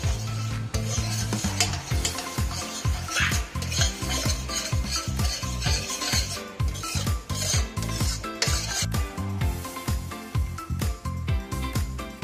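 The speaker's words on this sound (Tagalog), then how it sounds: "dissolve lang po natin tong asukal. Hanggang mag-caramelize po siya" Steady stirring and scraping of sugar caramelizing in a pan for Chinese braised pork belly, with a soft sizzle, utensil clinks against metal repeating close by.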